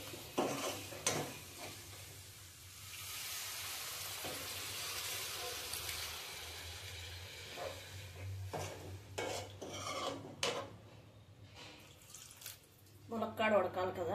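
Water goes into a sizzling pot of drumstick prawn curry and gets stirred, with a hissing rush, then uneven scraping and clanks of a spoon against the pan, a voice talking briefly.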